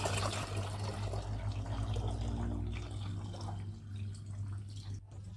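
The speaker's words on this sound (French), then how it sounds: "Nous pouvons maintenant la verser dans la cuve de fermentation." A vinegar and santol marinade for santol wine pours into a fermentation vessel, a steady splashing, gurgling stream under a low hum that thins and fades near the end.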